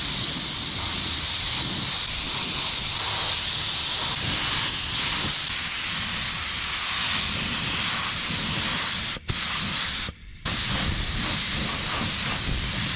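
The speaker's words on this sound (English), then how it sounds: "let's get everything sprayed out" A spray gun laying paint onto a Subaru STI hatchback's bumper, a loud, continuous close-up hiss of atomized spray that holds for most of the stretch, broken by two brief pauses near the end.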